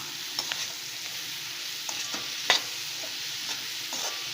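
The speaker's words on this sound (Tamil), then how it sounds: "இப்போது இதையும் ஒரே ஒரு நிமிஷம் நம்ம அந்த மசாலா ஸ்மெல் போக லைட்டாக வதக்கிக்க போகிறோம்" Vegetable fried rice masala is stirred and lightly sautéed in a pan, with a soft sizzle under scattered spoon scrapes and one sharper clank, close by and without talk.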